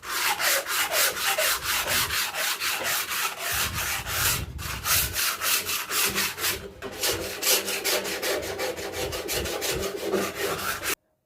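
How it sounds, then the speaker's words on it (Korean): Cloth-backed sandpaper rubbed in quick, steady back-and-forth strokes over a painted wooden drawer surface, a continuous close, dense scratchy swishing with a regular rhythm throughout. "마지막 단계에서는 천사포의 뒷면을 이용해서 표면을 한번 연마해 줄게요"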